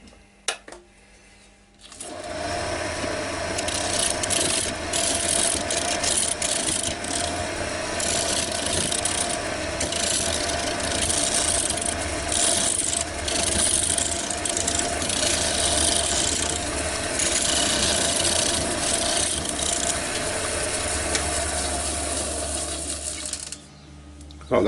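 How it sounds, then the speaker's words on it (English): A round nose scraper cuts a walnut bowl spinning on a wood lathe. After a short quiet start, a steady, close rasping scrape runs continuously, with a low motor hum underneath. "Just going to try with a round nose scraper."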